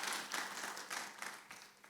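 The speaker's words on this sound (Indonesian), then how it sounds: "Tepuk tangan bagi Allah kita." A church congregation applauds during a sermon, with continuous clapping from many hands, moderately loud and sustained across the moment with no speech over it.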